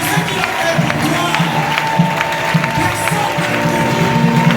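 A church congregation at a synod gathering in the Ogooué-Maritime region claps and cheers together, a dense steady wash of applause with crowd voices mixed in, moderately loud and close throughout.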